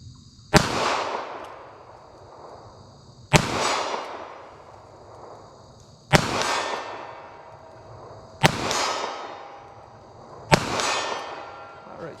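Five loud, sharp shots ring out from a .32 H&R Magnum snub-nose revolver firing Federal American Eagle soft point rounds, spaced about two to three seconds apart, each with a ringing decay outdoors and no talk between them.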